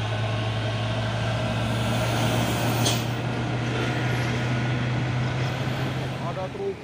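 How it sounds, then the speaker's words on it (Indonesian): Heavy trucks labour past on a road, including a Hino Dutro 136 PS, a constant low engine drone with a brief hissing burst partway through and someone talking over it. "Ada truk Puso Coklat dan truk HDL 136 PS."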